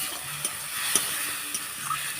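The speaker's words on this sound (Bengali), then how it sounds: "কষিয়ে নেব মশলাটাকে" Chili and turmeric masala sizzles softly in a pan while being stirred, a quiet steady hiss with a few light ticks of the spoon against the pan.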